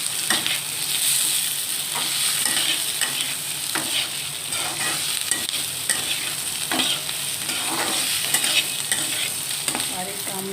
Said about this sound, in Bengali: ভালোভাবে কষিয়ে নিচ্ছি, এরপরে আলুটাও দিয়ে দিলাম।